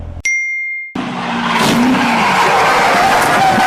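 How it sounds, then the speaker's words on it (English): A 2019 Chevrolet Corvette Z06 pulls away after a short ding, its tires squealing loudly and continuously over the engine roar, close by. "He's gonna let me drive a Z06."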